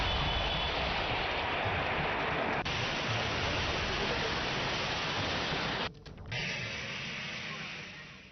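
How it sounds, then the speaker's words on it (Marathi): Rain showers pouring down in Raigad, a dense continuous hiss of falling water that fills the whole stretch, with a brief dip near the end before the steady wash resumes. "रायगडमधील कर्जत, खोपोली, खालापूर परिसरात पावसाच्या सरी कोसळल्या"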